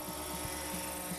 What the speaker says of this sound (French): On a donc embarqué notre propre hélicoptère.